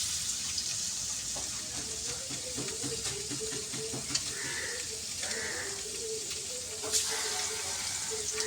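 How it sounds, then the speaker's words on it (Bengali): Lentil fritters frying in hot oil, a constant bright sizzle with crackle throughout, joined by faint scraping and a few small clinks, with a soft high voice-like tone drifting in now and then. "তেলের পরে ডালের বড়াটা ছাড়িয়ে দিলাম"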